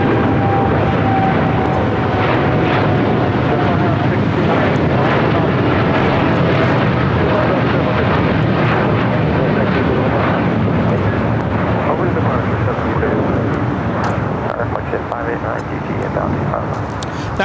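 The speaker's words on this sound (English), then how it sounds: "That was United Airlines 1731 taking off to Newark on a 787-9 Dreamliner." Loud, continuous jet roar from a United Airlines Boeing 787-9 Dreamliner taking off at LAX, with a faint whining tone drifting downward early on and gusty rumble throughout; voices can be heard beneath.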